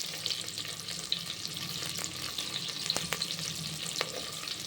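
Onions and curry leaves sizzle steadily in a pan, a continuous hiss with a few sharp scraping stirs and spatula clicks, close and moderately loud with no talking.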